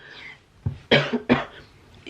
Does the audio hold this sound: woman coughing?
yes